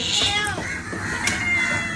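A cat meows once or twice at close range over a noisy indoor background.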